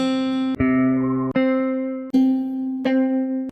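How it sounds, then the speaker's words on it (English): Guitar one-shot samples from icyjesse's one-shot kit: five plucked notes in sequence, each a sharp attack that rings and decays before the next, bright and upfront with no other sound. "And some guitar."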